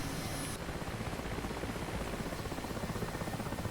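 Mi-8 helicopter in the DCS flight simulator, heard from outside the airframe: a steady, loud rotor thump and turbine drone continuing evenly throughout with no talk.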